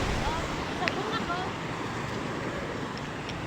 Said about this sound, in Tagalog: Lakas ng alon yan